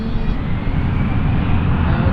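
A KLM Boeing 777 in SkyTeam livery roars at Schiphol Airport in foggy conditions, its jet engines making a loud, steady, broadband rumble with no breaks.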